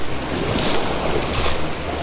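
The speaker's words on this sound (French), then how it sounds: "Mais il y a quand même des vagues donc la mer est un peu agitée." Waves on a choppy sea break on the shore during surf fishing, a steady rushing wash with two broader surges, close and loud with some wind noise, no talk.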